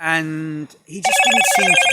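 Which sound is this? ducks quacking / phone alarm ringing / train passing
phone alarm ringing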